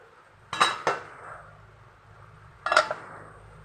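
A few sharp metallic clinks of a utensil against a cooking pot while stirring chicken adobo, two quick scrapes close together, then another after a pause, close by in a quiet room.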